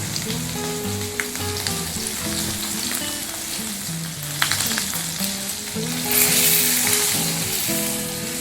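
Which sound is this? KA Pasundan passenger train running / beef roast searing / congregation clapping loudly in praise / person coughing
beef roast searing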